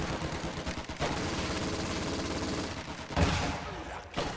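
MG42 machine gun fire in Company of Heroes 2, a steady loud burst of rapid automatic shots with a heavy impact near the end, all in a 1v1 match and no speech over it.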